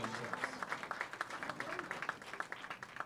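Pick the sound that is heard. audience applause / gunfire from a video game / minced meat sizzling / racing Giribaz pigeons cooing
audience applause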